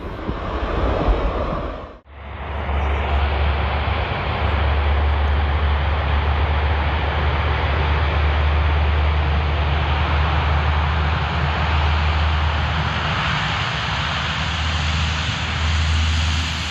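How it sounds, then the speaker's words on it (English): An Airbus A330 airliner on its takeoff run, its right engine failing, makes a loud, continuous jet engine roar with a deep rumble that holds steady throughout, broken only by a brief dip near the start. "the right engine of an Airbus A330 exploded during takeoff"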